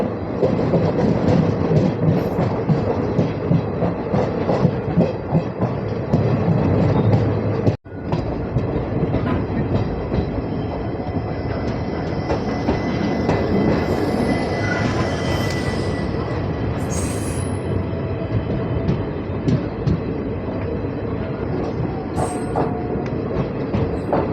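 Chalukya Express passenger train running from Hubballi to Belagavi, a loud, steady rumble of wheels and carriages with rhythmic clickety-clack and occasional wheel squeal, heard close from on board for a sustained stretch.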